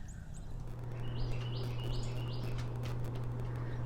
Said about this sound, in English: I love overcast days like this when you can hear the birds chirping.